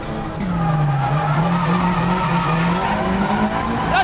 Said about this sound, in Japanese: ずっとドリフトを維持し続けてる